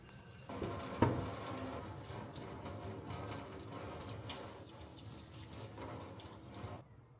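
Dishes, cutting boards and a thermos are washed by hand under a running kitchen tap, with a steady stream of water splashing into the sink, a brief knock of an item near the start and the flow cutting off at the end.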